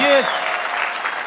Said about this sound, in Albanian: Ju lusim për një duartrokitje.